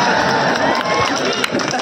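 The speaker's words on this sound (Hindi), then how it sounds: "एक बार जोरदार तालियां" A comedy show audience bursting into loud applause and cheering, a dense continuous wash of clapping and crowd noise with voices mixed in throughout.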